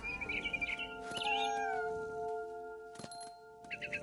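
A cat meows in the video game What Remains of Edith Finch, a few clear, drawn-out, tonal calls over a soft music bed, then a short gap and a brief caterwaul-like cry near the end.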